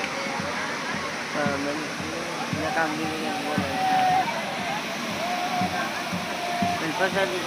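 Water flowing and splashing at a Dashama idol immersion site, a steady rushing wash with gurgles, heard close and continuous under a crowd's chatter and voices talking throughout.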